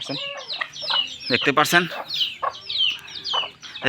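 Several chickens cluck and chatter close by in quick, overlapping calls, with a person speaking briefly among them.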